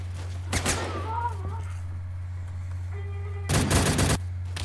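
Gunfire in a shooter video game, two short loud bursts of rapid shots, one near the start and a longer one near the end, over a steady background hum, with faint in-game sounds between them.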